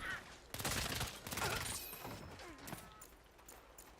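Bursts of gunfire in the video game Saints Row, a loud rattling volley at the start followed by scattered shots and quieter fading tails, with no speech.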